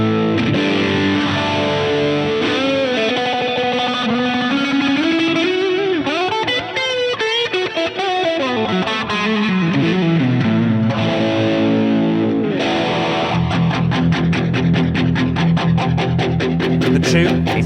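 Electric guitar runs through a Phase 90 phaser model on a Line 6 Helix Stadium, producing a loud, distorted tone with a sweeping, swirling phase movement as riffs and chords are played, with no talking.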